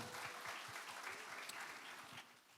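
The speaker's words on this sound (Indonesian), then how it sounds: "Mari kita berikan tepuk tangan bagi Tuhan kita" Congregation applause during a church worship service, a steady dense clapping from many hands, soft and somewhat distant throughout.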